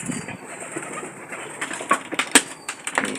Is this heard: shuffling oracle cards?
no